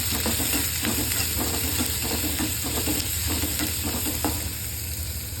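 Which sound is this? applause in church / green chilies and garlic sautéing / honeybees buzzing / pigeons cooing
green chilies and garlic sautéing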